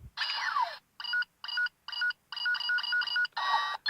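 Call sound from a Go-Onger Go-On Wings toy: a rapid series of electronic dial-like beeps in short regular bursts, bright and fairly close, with a longer warbling tone at the start and the end.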